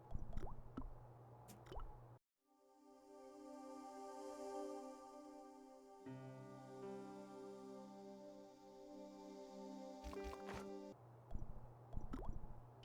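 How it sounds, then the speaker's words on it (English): A cold tap with a failed washer dribbles water into a sink in the Broken Sword video game, a close, continuous liquid trickle with a few brief drips and splashes at the start and end. "The cold tap's washer looked to have failed. It was just dribbling down the sink."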